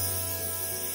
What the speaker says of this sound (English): Spray with this olive oil or butter spray.